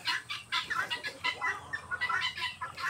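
Free-range chickens cluck in a backyard, with a steady run of close, overlapping clucks and short calls from several birds and no talk.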